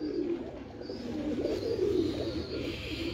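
Male pigeons held in the hand coo in a steady, low, throaty burble, close and continuous, with no talking.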